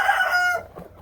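Chickens being moved to their winter home give a brief, close crowing call that cuts off abruptly, followed by softer clucking.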